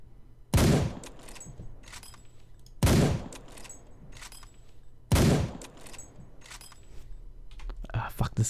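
In the video game Arma 3 with the Exile mod, three loud single gunshots ring out about two seconds apart, each with a short echoing tail, over quiet ambient background.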